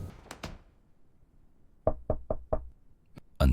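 Knuckles rap on a door in a horror setting: two quick knocks first, then a pause and four evenly spaced loud knocks, then a faint single tap and one final heavy knock, all close and sharp against a quiet background.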